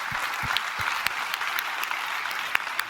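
A comedy roast audience applauds in a dense, steady wash of clapping with a few sharper claps standing out, loud and continuous through the whole stretch.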